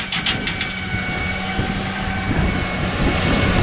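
A tractor pulling a single mower on the back drives past through a silage grass field, a steady, fairly loud engine drone holding throughout with wind-like broadband noise.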